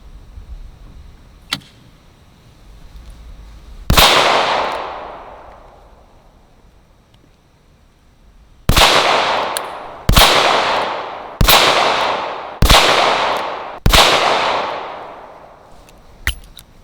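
Ruger LCR 22 Magnum revolver fired indoors: one loud sharp shot, then a pause, then five rapid shots about a second apart, each cracking report ringing out into a decaying echo.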